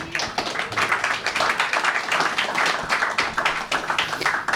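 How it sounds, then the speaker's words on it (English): An audience at a Bitcoin panel talk in Christchurch, New Zealand applauds the three panel guests with dense, steady clapping that holds at an even level for several seconds. "So can I just get a round of applause for our 3 guests, please?"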